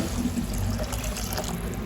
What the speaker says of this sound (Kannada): ಅದರ ನಂತರ ಸ್ವಲ್ಪ ನೀರು ಹಾಕಿ ಬಿಡಬೇಕು.